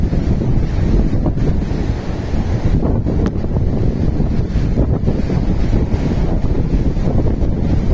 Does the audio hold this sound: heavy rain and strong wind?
yes